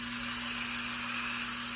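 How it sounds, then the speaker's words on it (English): A loud, steady sizzle of sirloin steak searing in a hot cast iron skillet, a constant bright hiss with no pauses. "You're going to be able to hear that sizzle."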